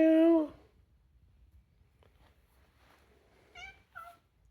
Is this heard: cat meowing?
yes